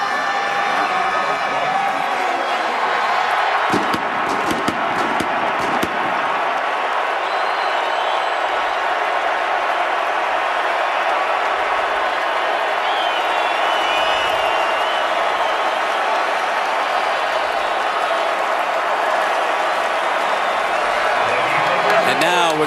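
A capacity crowd at the 2011 Rose Bowl football game between Wisconsin and Oregon, a dense, sustained roar of cheering and applause that fills the stadium, with an announcer talking over it.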